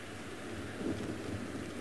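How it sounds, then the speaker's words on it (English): A steady wash of rainfall on an open outdoor safari drive fills the scene, a dense, even hiss with a low rumble beneath it, fairly loud and continuous with no voices. "Oh, hello, rain."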